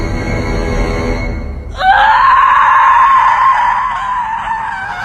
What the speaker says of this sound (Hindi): अपने भाई की लाश देख के सोफिया अपना संतुलन खो देती है और काफ़ी ज़्यादा ज़ोर से चिल्लाती है